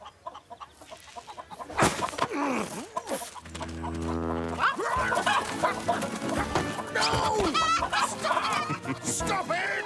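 Cartoon hens on a farm cluck in a busy run of short, loud calls, with a steady tonal note in the middle and other farmyard animal noises mixed in.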